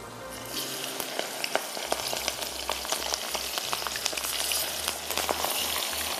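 Vegetables sizzle and crackle as they fry in hot oil for a crispy vegetable curry, a steady dense frying hiss with scattered pops, close and loud with no talking.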